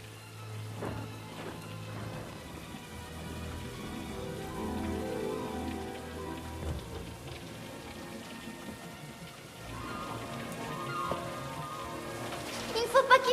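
Heavy rain patters steadily on surfaces at a moderate distance in a continuous, even wash of drops, with faint voices and a few sharper taps near the end.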